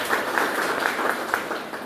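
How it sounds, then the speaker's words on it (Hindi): Applause from an audience at an event honoring guests, a steady dense clapping texture held at moderate level throughout, with no talk over it. "केक सर के लिए, मैडम के लिए एक जोरदार तालियां हो जाए फिर से"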